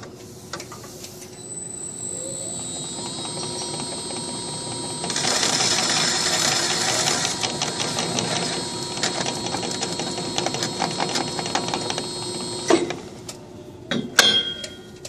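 A Rosenthal smart slitter cuts through adhesive rolls: a steady mechanical whir with a rapid ticking rhythm, a shrill high-pitched whine building in the middle, then clicks and clanks near the end, with no voices.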